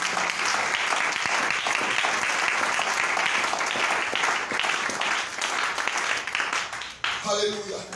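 Applause from a church congregation during a French-language worship service, steady dense clapping filling the whole stretch with crowd noise, tapering briefly near the end.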